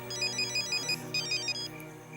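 A mobile phone rings with a repeating electronic ringtone in short bright bursts, nine or so chirps in a steady rhythm, fairly close over a low indoor hum, then it stops.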